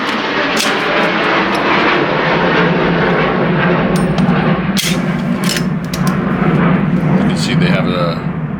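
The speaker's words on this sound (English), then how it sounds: "that's a loud airplane" A loud airplane roars overhead in a steady, broad wash of engine noise that swells and holds throughout, with brief sharper knocks and handling noises layered on top.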